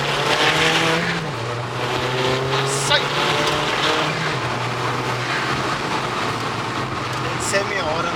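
A Volkswagen Polo driving hard, with a steady engine drone and rising and falling tones heard from inside the car, plus brief tyre noise, while people talk over it.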